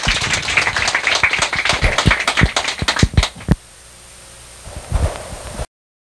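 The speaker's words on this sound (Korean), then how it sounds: "오늘 좋은 발표이신 보살님께 큰 박수 다시 한번 부탁드리겠습니다." A congregation at a Sunday Buddhist dharma service claps for a presenter, a burst of irregular, sharp claps that thins out and stops partway through, followed by near silence and one brief rustle.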